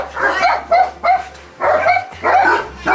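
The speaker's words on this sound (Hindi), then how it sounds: "कुत्तों ने तो जान ही निकाल दी, आवाज़ भाई बहुत ज़्यादा शोर कर रहे थे और बहुत ज़्यादा कुत्ते हैं" Several dogs bark loudly and close by in bursts of overlapping barks and yips, with short pauses between volleys.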